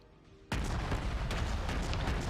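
The Phoenix, a tier 4 American cruiser in World of Warships, fires its guns: one sudden loud boom, then a sustained rumbling roar of shellfire.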